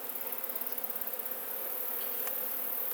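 Honey bees buzz steadily around an open, well-kept backyard beehive during an inspection, a dense close hum filling the whole stretch with small individual wingbeats rising above it, no talk.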